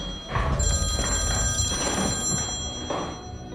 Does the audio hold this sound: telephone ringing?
yes